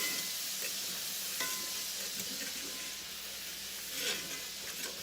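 Butter browning in a pan, a continuous bright sizzle and hiss with soft stirring scrapes, close but fairly quiet and steady throughout, no voices.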